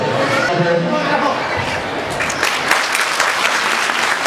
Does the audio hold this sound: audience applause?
yes